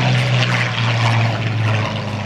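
A Curtiss P-40 fighter plane passes at the Warbirds over the Beach 2010 airshow, its propeller engine a loud, steady droning roar that holds near and constant throughout, with no voices over it.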